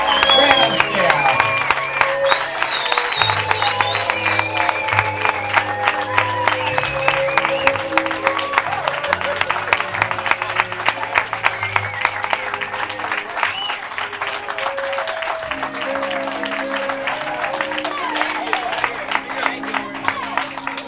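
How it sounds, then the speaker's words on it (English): Rousing audience applause for the cast of a radio comedy show, loud and sustained for about twenty seconds, with cheering voices and musical tones running underneath. "Let's bring them all back with a round of rousing applause."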